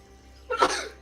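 One quick, sharp sneeze bursts out close by against a quiet background.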